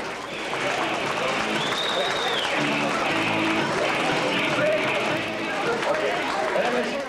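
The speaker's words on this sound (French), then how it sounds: "Tout le monde, s'il vous plaît, et bonne main d'applaudissement." Audience applause at a 1977 moose festival (Festival de l'orignal) community event, a dense, steady wash of clapping mixed with crowd chatter and voices, lasting throughout.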